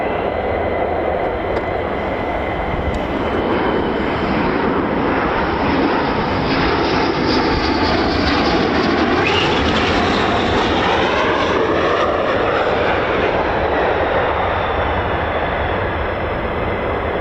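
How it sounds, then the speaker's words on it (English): A military jet arrives at RAF Lakenheath with a loud, sustained roaring engine rumble that swells toward the middle as it passes and then slowly fades, continuous throughout with no voices. "we've got an arriving aircraft"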